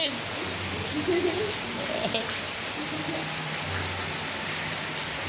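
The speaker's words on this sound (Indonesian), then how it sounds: "Mudah-mudahan hujan berkah." Steady rain pours down in a continuous broadband hiss with no pauses, filling the whole stretch at an even level, with faint voices and background sounds barely present beneath it.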